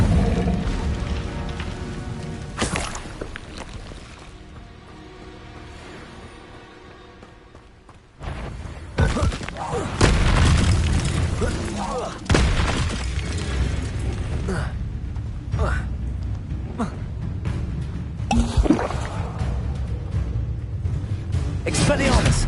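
Spell blasts in Hogwarts Legacy battle, irregular booming bursts and crackling impacts over a rumbling, shifting combat soundscape, quieter at first and then loud and dense from the midpoint on, with voices shouting over it.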